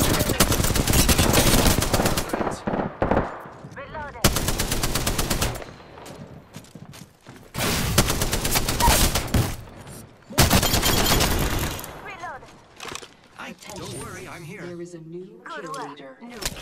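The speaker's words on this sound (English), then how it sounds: "Getting shot at." Bursts of rapid automatic gunfire from Apex Legends, loud and dense, come in repeated clusters separated by short gaps, with a voice talking faintly between volleys.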